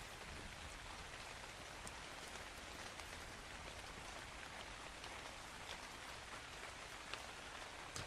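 Steady rain falls in the video game Ark Survival Ascended, a soft, even hiss of drops on surfaces lasting throughout, fairly faint and with no voices.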